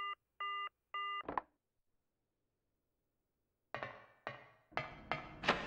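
A telephone rings in the video game Silent Hill with three short, evenly spaced electronic tones. After a silent pause, several heavy, clattering knocks follow, growing louder.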